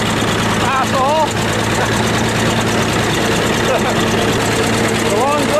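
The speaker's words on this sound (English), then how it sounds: "Why are we driving the bulldozer?" A bulldozer engine runs steadily at a low, droning idle on a farm in snow, with constant mechanical vibration throughout and voices talking over it.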